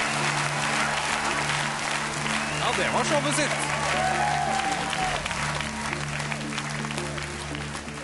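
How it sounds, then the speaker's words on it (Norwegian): Studio audience on Skal Vi Danse 2010 applauds after a jive by Åsleik and Nadia, a loud, continuous wash of clapping and crowd noise with music and a host's voice speaking over it. "Stor nørdete applaus til Åsleik og Nadia."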